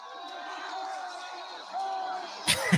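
Stadium crowd cheering from a BYU vs UCLA college football broadcast, a sustained distant roar with tonal shouts that swells near the end, punctuated by a couple of louder close bursts.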